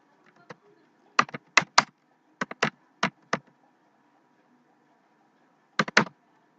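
Computer keyboard keystrokes come in short, crisp bursts of several taps, then a pause and a final pair, close and clear in a quiet room.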